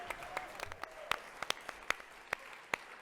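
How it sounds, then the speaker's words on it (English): Sparse audience clapping at a Beast Games reaction event, a handful of distinct, separated claps at irregular intervals over a faint background rather than a full ovation. "Everyone give a round of applause."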